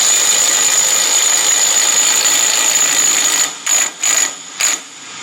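A Milwaukee M12 FIW2F12 stubby impact wrench loosening a fastener, a loud continuous high-pitched whirring hammer that runs steadily, then breaks into three short bursts as the tool stops and restarts.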